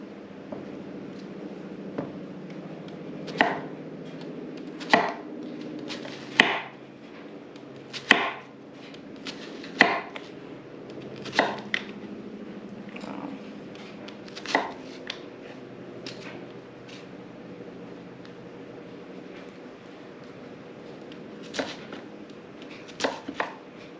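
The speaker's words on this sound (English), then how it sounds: "Whenever you're using a large knife like this, you should be able just to press down into it to slice something in two" A large sharp kitchen knife cuts cleanly through food on a board, giving a series of crisp, separate chops at an uneven pace, close and fairly quiet, with no talking.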